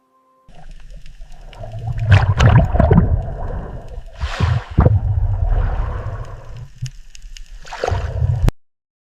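A kayak paddles among ice floes in a Greenland fjord, with splashing, sloshing strokes and gurgling water coming in irregular bursts close by.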